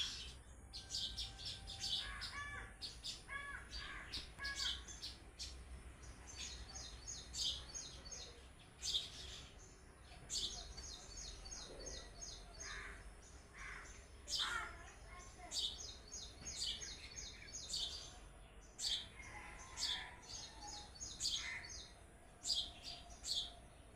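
A small bird chirps repeatedly in quick bursts of high, bright notes, fairly close against a quiet background, with short pauses between phrases.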